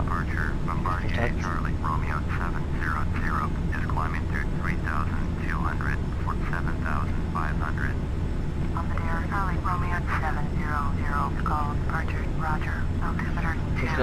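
Bombardier CRJ700 engines in a flight simulator give a steady, loud droning hum throughout, while someone talks continuously over it.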